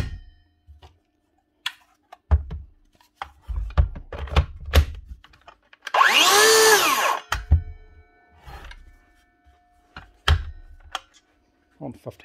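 A repaired Dewalt Flexvolt brushless circular saw spins up in one loud burst of about a second, whining up and down in pitch, amid scattered clicks and handling thumps before and after.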